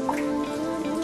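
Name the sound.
rain falling in Czech Switzerland national park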